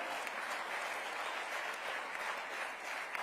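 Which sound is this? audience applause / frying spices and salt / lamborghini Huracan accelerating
audience applause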